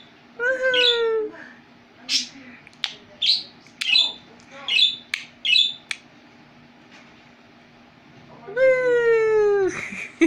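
Budgie squawking and chirping in a run of short, bright, harsh calls, close and fairly loud, with a longer squawk near the end and quiet between bursts.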